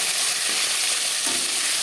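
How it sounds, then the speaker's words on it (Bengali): Rohu fish pieces frying in hot oil in a pan, a dense, constant crackling sizzle, close and loud, with no talking. "মাছ হালকা করে ভেজে নেব"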